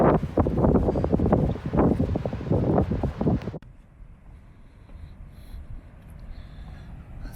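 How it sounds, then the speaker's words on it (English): Gusty wind at the beach buffets the microphone in strong roaring bursts for several seconds, then drops abruptly to a softer, steady breezy background. "The wind's blowing."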